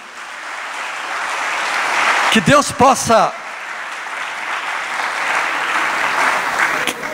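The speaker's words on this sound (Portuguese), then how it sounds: "Uma salva de palmas para Jesus." A church congregation applauds for Jesus, a broad, sustained wash of clapping throughout, while a preacher's voice speaks briefly in the middle.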